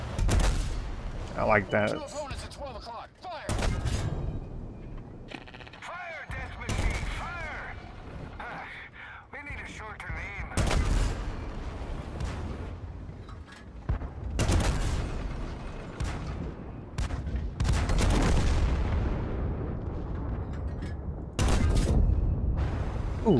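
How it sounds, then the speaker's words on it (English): World of Tanks gameplay, tank cannon shots from the Operation Steel Avalanche mission: several loud, booming blasts spaced irregularly over continuous battle rumble, with someone talking throughout. "the gun sounds much better than a normal World Tanks gun"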